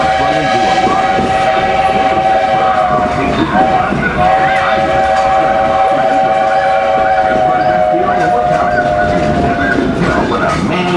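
Magic Kingdom Railroad steam train running through Adventureland, a constant loud rumble of rolling cars with a long sustained whistle blast held over it, while a narrator talks throughout.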